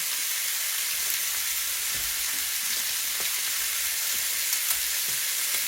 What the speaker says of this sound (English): This is always another layer of flavor when you sear your meat